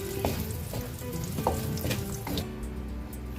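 Pork ribs for a Cebu-style kaldereta frying in a pan until browned: a steady, close sizzle with soft stirring clatters now and then, and no voices.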